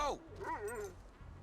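A dog in the video game GTA 5 gives a short bark followed by wavering, rising and falling whimpers and yips, fairly faint, with a quiet low background underneath.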